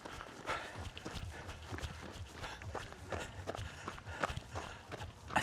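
A runner's footfalls in a 10k road race while running backwards, an irregular patter of light steps at close range, fairly quiet, with a few sharper impacts mixed in and no clear speech.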